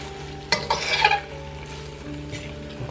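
Longanisa sausages fry in a pan with a steady sizzle, and a louder burst of stirring and sizzling swells for about a second as the pan is swirled before settling back to a gentle fry.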